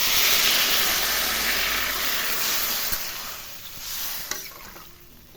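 Jackfruit curry in a pan sizzling loudly as water is poured in, a strong hissing steam burst that fades gradually over several seconds, ending with a few faint clinks and stirring sounds.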